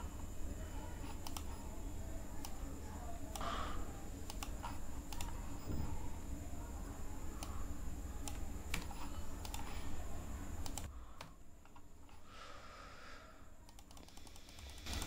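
Typing on a computer keyboard, a long run of quiet, uneven key clicks over a low background hum that drops partway through.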